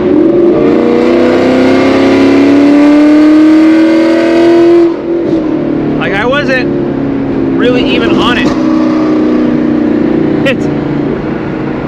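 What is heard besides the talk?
Ford Mustang GT S550 loud catless headers exhaust accelerating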